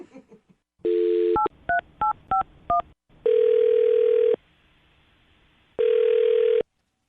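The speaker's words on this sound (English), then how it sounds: "I'm going to dial his phone number right now, Allison, see if we can get him on the phone" A telephone line gives short dial tone bursts and a quick run of six touch-tone keypad beeps, then two long ringback tones separated by a quiet gap, all clear and close with no talking.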